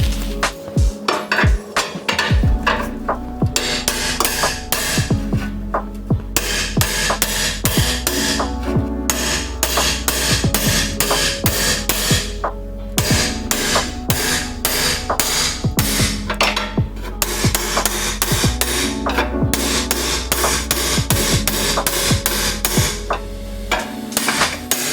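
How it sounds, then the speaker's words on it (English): A hammer strikes a removal tool to slide a stainless steel exhaust tip off a BMW F80 M3 again and again in a fast, steady rhythm, sharp ringing clanks close by, continuing without pause. "I'm gonna be hitting the back side of this tool right where it curves there with the hammer"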